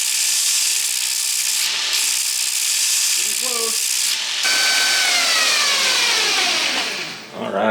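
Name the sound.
surface grinder removing scale from Damascus steel bars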